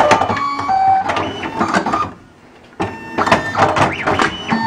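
Fastback Model 20 perfect binding machine sealing five books at once with a wide temperature-activated strip, giving loud mechanical whirring and clattering with a brief quiet pause midway before the machine resumes.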